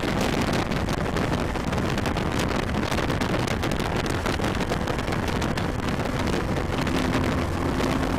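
A 2013 BMW R1200GS LC motorcycle on a road commute, with constant loud wind rush and engine roar filling the whole stretch and no talking.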